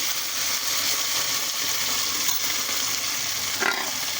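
Spinach puree being stirred in a hot frying pan, a steady, close bubbling sizzle throughout with a brief spatter or scrape near the end and no speech.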